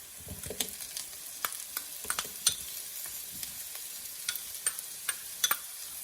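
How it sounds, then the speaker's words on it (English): Onions with jalapeno and garlic sizzle steadily in a pan while being stirred, with scattered clicks and scrapes of the utensil over a continuous frying hiss, close and fairly quiet, no talking. "give that a stir. Onions are looking nice and brown and nicely dehydrated."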